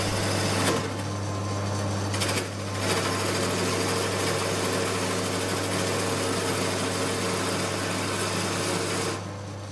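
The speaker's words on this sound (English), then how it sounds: "And here we go with shaping the spindle. The cutter follows the profile of the template which has now been clamped in place on the lathe bed." A wood lathe with a template-copying cutter shapes a spindle for a wooden produce cart, giving a steady, loud mechanical hum and whir with a brief dip in intensity early on, then running evenly until it winds down at the end.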